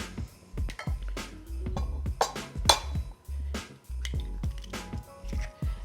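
Four eggs cracked into a bowl, a string of close, soft taps, cracks and wet squishes with small clinks, coming in uneven clusters over a faint background hum.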